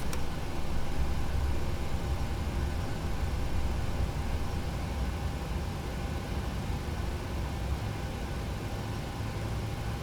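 A Boeing 737 engine spools up in a PMDG flight simulator, heard as a steady, broad low rumble and hiss that holds evenly throughout, with no voices over it.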